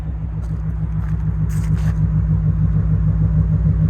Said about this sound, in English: It has that nice little Corvette rumble to it.